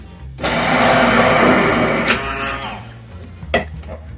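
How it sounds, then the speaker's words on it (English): A handheld immersion blender whirs loudly and steadily for a few seconds blending homemade mayonnaise, its motor pitch shifting slightly as it works, then stops with a clatter. "immersion blender"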